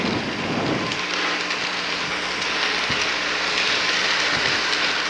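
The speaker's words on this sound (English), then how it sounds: "And here comes the train." A train draws near in a children's train video, a broad, loud rushing rumble that builds and fills the scene, with low steady humming tones settling in beneath and a few faint clacks, no speech.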